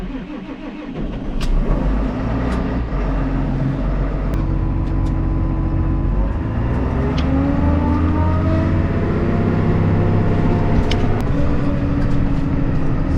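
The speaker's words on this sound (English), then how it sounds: "So far so good with this tractor. We're pretty happy with the way it runs." A loader tractor with a CVT transmission runs steadily close by, a loud continuous engine drone with shifting tonal whine and a few faint clicks, with no talk.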